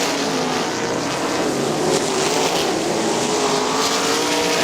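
Sprint cars race around Winston Motor Speedway in a 2001 Great Lakes Outlaw Sprint Series event, their engines blending into a loud, continuous roar that rises and falls in pitch as they lap the track.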